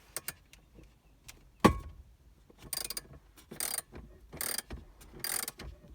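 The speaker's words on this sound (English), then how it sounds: "Let's use our socket set with extension and get that 10mm nut out now." A ratchet socket wrench with an extension undoes a 10mm nut inside a Mazda 6 GL dashboard, giving quiet bursts of rapid clicking in several separate strokes with short pauses and one sharp knock between them.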